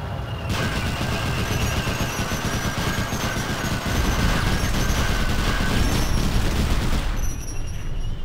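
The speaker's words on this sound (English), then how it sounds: "Just need him to turn, and then I'll try to take the machine gun." Sustained machine gun fire in the video game Medal of Honor Underground, a dense continuous burst of rapid shots running loud for about seven seconds before cutting off.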